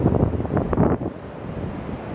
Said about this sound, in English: And very windy outside.